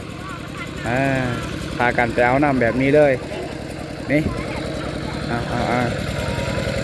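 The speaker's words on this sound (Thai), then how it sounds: "นี่ข้าเจ้าก็น่าจะติดรถไถ" A farm tractor engine chugs steadily close by, a low continuous rumble running throughout while someone talks over it.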